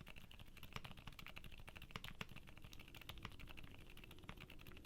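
Typing on a keyboard with Gateron Oil King silent linear switches, which have nylon top housings and an ink blend bottom, a faint, soft, rapid run of muffled keystrokes.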